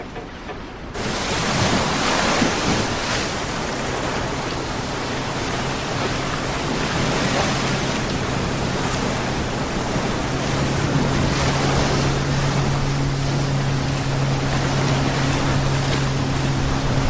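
Breezy afternoon wind blows steadily outdoors by the sea, a loud broadband rush with surf-like swells, and a faint low engine hum runs beneath it for most of the stretch.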